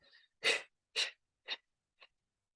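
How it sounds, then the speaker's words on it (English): Forceful yoga breathing: four sharp, breathy exhales spaced about half a second apart, each shorter and quieter than the last, after a faint softer breath. "All you have to do is exhale."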